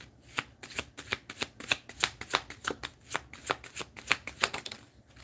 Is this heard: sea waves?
no